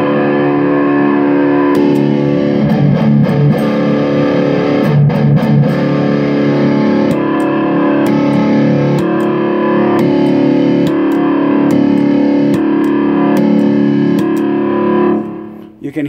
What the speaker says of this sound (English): the ISP theta pedal is a little bit thicker sounding, and the Richie Kotzen pedal is a little bit thinner sounding